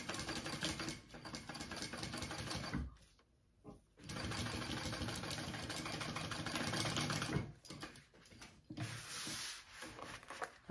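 Sewing machine stitching a backpack piece, running in long steady whirring bursts separated by short pauses, close and alone.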